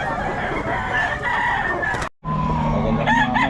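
Roosters crow and chickens cluck among the fowl stalls of the Bocaue market, a steady close chorus broken by a brief cut, with one clear crow near the end.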